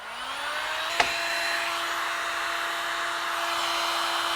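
A heat gun set to its lowest setting blows a steady, even whoosh with a faint whine as it softens glue on the plastic headlight part of a 1993-2002 Pontiac Firebird Trans Am, after one short click as it switches on.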